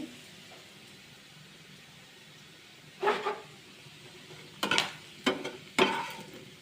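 Puti fish and brinjal fry in a pan, a quiet steady sizzle broken by several sharp scrapes and clatters of a spatula near the end.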